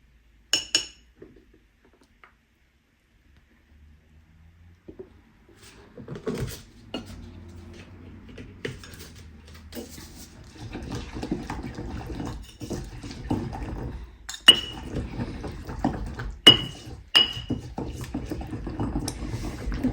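A stone pestle works a chicken marinade of chili sauce and oil in a stone mortar, with irregular clinks, knocks and wet mixing that grow busier and louder after a quiet start.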